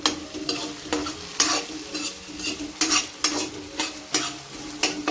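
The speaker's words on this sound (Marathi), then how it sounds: "टमाटर पण आपल्याला लाल होईपर्यंत छान असा फ्राय करायचा आहे" Tomatoes and onions frying in a pan for a soybean curry, a steady sizzle broken by regular scrapes of a spoon stirring about once a second, close and alone.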